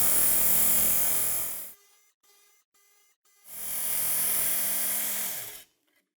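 Fillet knife blade pressed against a running belt sharpener, giving two loud sustained whining grinding passes of about two seconds each, separated by a short quiet gap.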